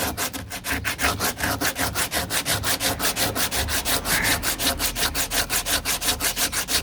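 Fibreglass on a 1969 Corvette C3 passenger door is sanded by hand in quick, even back-and-forth strokes, a steady rasping rhythm, close and alone.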